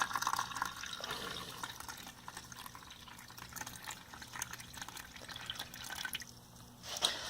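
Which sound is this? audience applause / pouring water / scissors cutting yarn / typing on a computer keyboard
pouring water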